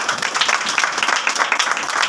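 Christmas church congregation applauding, loud, close, continuous rapid clapping from many hands with no voices.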